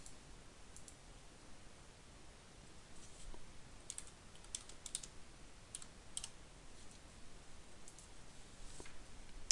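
Faint, scattered keystrokes on a computer keyboard as a range of spreadsheet cells is typed in, with soft clicks spread irregularly over a quiet background and no talking.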